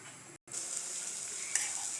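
Gravy poured into a hot pan on a lit gas stove, a steady bright sizzle after a brief pause, with a short louder burst partway through.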